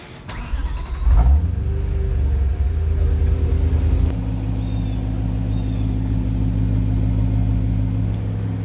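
A damaged BMW E92 M3, missing half its body panels, drives with a steady, loud low engine drone that swells sharply about a second in and then settles into a constant rumble, with no voices.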